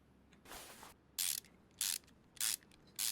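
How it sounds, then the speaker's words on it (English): Bolts coming off a pulley in the Car Mechanic Simulator 21 game: a soft mechanical whir followed by three short, bright ratcheting bursts spaced at even intervals, quiet and close. "I'm going to just take this pulley off as it's one or two bolts away"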